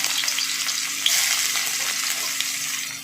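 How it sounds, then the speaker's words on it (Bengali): Chopped onions hit hot oil in a home kitchen, giving a loud, steady sizzle that crackles continuously for the whole stretch with no voices. "তেলটা কিন্তু গরম হয়ে গেছে এবার কেটে রাখা পেঁয়াজগুলো দিয়ে দিচ্ছি"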